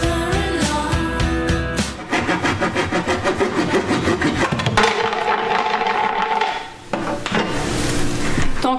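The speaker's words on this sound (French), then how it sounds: "on a scié le fond afin d'assurer que le compost a un contact direct avec la terre" The bottom of a balcony compost bin is sawn off, with loud, close, repeated rasping strokes and a tonal grinding that stops briefly, then starts again.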